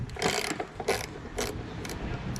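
A 10mm wrench loosens the bowl nut on the carburetor of a Toro Recycler mower with a Kohler XT675 engine, giving four close, crisp metallic ratcheting clicks in a quick, uneven series.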